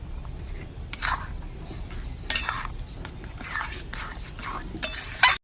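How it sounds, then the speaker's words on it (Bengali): Semolina stirred continuously in hot water in a pan, with close scraping and clinking of a utensil against the metal in irregular strokes, a couple of sharper knocks near the end. "এবার এক বাটি সুজি দিয়ে দেব এবার অনবরত নাড়তে থাকবো"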